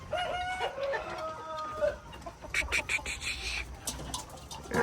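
Chickens and a rooster on a poultry farm, with a clear crowing call early followed by scattered clucks and bird noises, moderately close, with some background rustle.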